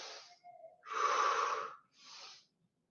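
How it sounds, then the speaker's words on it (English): Forceful breath from a pilates exercise: a short hiss, then one long, strong, breathy exhale close to the mic, then a softer final puff with a rough, wheezy edge. "Powerful exhale"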